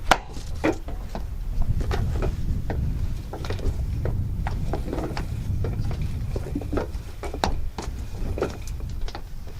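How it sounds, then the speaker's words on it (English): A hammer taps a hole punch into a galvalume metal roof panel, giving a steady series of sharp, irregular knocks over a low, constant outdoor rumble. "And now I'm going to use this hole punch to make a home for the screws."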